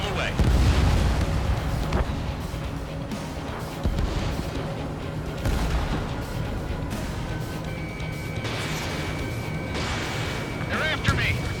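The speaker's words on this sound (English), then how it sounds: "Missile away." Missile launch from a fighter jet in Ace Combat 7, a loud whooshing roar and rumbling blasts amid steady jet engine noise, with a rising whine near the end as the missile streaks away.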